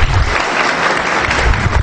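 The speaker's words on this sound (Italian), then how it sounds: "Facciamo un bel applauso" Loud, dense applause from a crowd at a town council inauguration ceremony for children, a continuous close wash of clapping lasting a couple of seconds.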